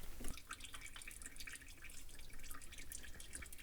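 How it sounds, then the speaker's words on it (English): Gear oil draining from a Porsche 997 Carrera S transmission: a slow trickle with a continuous patter of fine drips and small splashes, faint and close, with no voices. "This just drained for about 10-15 minutes, came to a very slow trickle"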